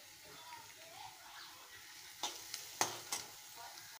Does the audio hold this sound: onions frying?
yes